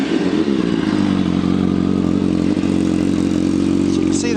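A 2006 Kawasaki ZX10R Ninja race replica motorcycle with 13,599 miles turns over and fires up, then settles into a loud, close, steady idle rumble from its exhaust with light mechanical clatter, a brief blip midway.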